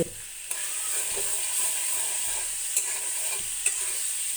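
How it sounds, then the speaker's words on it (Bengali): A mash of ridge gourd fries in oil with a steady, soft hissing sizzle, broken by a few light taps of stirring, close and alone. "ভর্তাটাকে আমি তেলে অনবরত রাখতে থাকবো ভর্তাটা যখন শুকিয়ে আসবে তখন নামিয়ে নেব"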